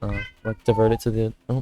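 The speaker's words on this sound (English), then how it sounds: "that was my cat meowing." A cat meows a few times in short, tonal calls, close by, mixed in with a person speaking.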